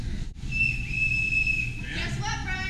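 A marathon runner's new coaching whistle gives one steady, shrill blast of about a second against background room noise, followed by a short, fluttery toot.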